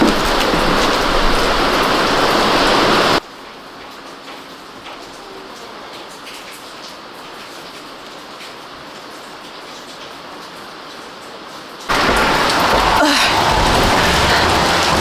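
Heavy rain in the Swedish countryside hisses loudly, then drops to a muffled, quieter hush for several seconds before the full downpour noise returns.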